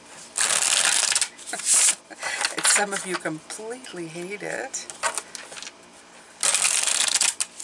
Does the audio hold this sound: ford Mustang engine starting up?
no